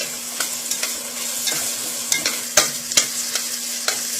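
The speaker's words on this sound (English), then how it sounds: "As the onions start to lighten in color, turn down your heat, add salt," Onions with salt frying in a pan while a utensil stirs them, giving a steady close sizzle under a series of irregular scraping taps and clacks; no talking.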